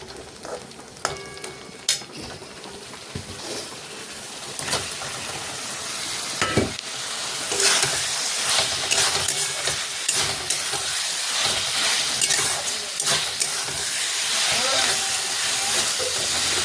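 Paneer hits a hot pan and fries with a loud, steady sizzle and hiss, broken by occasional clinks and stirring scrapes as the cubes are moved around, with no talk over it.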